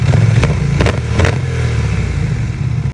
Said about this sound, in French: Bicylindre 4 temps bien nerveux, shifter up and down, autant te dire que je me suis régalé